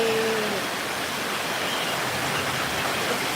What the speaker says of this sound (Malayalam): അപ്പോൾ ഇതാണ് ഞമ്മക്കുള്ള ഇന്നത്തെ മഴ ഇങ്ങനെ ഒരു മഴ കുറേ ആയിട്ട് പെയ്തിട്ടില്ല കേട്ടോ